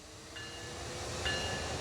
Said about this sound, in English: we'll just pull this loco off the set